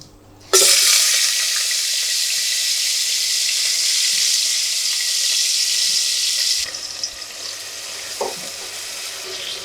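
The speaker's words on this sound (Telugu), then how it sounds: "ఇప్పుడు ఆయిల్ పోసుకుందాం. వీటిని నూనెలో వేపుకుందాం." Dried prawns drop into hot oil with a sudden loud hiss that holds as a steady, close sizzle, then drops to a softer crackle with a few faint scrapes.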